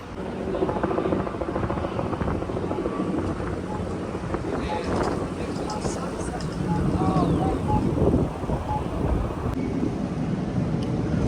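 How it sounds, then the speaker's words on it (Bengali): A helicopter flies over Manhattan in New York, a steady loud rotor drone under gusting wind noise, with a person talking over it and city sounds in the background. "চতুর্দিকে খালি হেলিকপ্টার উঠতেছে জানি না কেন"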